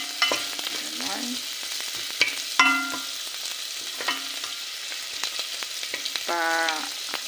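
Sardines and vegetables frying in a pan give a constant hissing sizzle, with sharp utensil clinks and scrapes scattered throughout and a short ringing metallic rattle near the end, close by and without speech.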